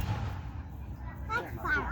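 Independence Day fireworks for the USA 250th anniversary at Charley Brown Park in Flora boom and crackle from a distance, with low rumbling bursts and a sharper pop at the end under crowd murmur.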